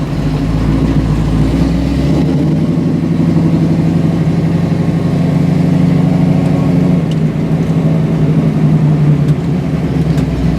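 A 1965 Mustang Cobra resto-mod's V8 runs close up with a deep, steady rumble, rising and settling slightly mid-clip, with no voices.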